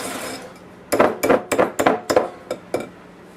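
A whisk is worked by hand through thick cookie batter in a bowl, giving a run of about nine sharp clinking strokes in an uneven rhythm, close and clear with no talking.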